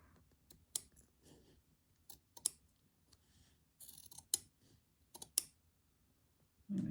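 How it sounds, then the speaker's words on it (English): Scissors snip a small bit of purple fabric during hand-stitching of a fabric journal spine. Several quiet, crisp close-up clicks are spread unevenly among soft handling rustles. "I'll just trim that little bit of purple fabric"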